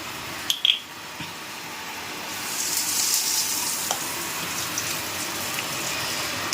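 Potato curry (aloo chorchori) with a pinch of asafoetida sizzling and frying in a pan in a home kitchen, a steady hissing sizzle that swells after a couple of soft clinks and continues close and even.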